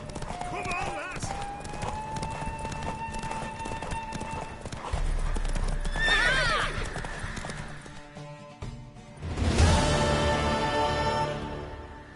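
In The Witcher III, a horse's hooves clip-clop over ground, with whinnying calls and swelling game music and effects as the hoofbeats quicken.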